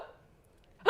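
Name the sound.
imitated hiccup, mimed by a teacher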